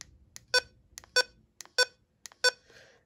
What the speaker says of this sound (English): So the version 16 has higher button beeps.